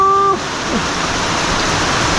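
Strong afternoon rain pounds down in a steady, close roar, briefly preceded by a short tonal sound at the very start before the downpour fills everything.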